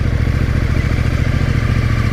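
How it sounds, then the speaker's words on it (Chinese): A CFMoto 800NK motorcycle pulls away at low revs with no throttle, its engine a steady, close, loud low rumble with wind-like noise over it. "完全不依靠油门，这个车可以起步"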